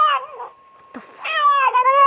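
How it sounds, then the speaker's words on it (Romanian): A cat meows loudly several times in close succession, drawn-out and wavering, heard alone without talk. "Pisica asta e bată?"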